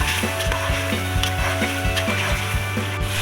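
Chilli and salt sizzle in hot oil while chicken pulao masala is roasted, a steady loud hiss with a regular rhythmic scraping or stirring thump roughly every third of a second, no talk.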